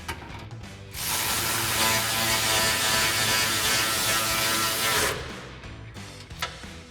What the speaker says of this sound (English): We'll grab our 10mm socket on our ratchet and tighten that down.